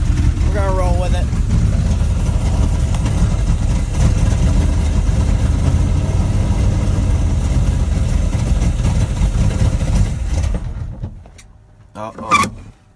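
A 1978 Dodge truck engine idles roughly after a cold start, a low steady rumble running for about ten seconds before it dies away, followed by a few brief faint noises in the shop.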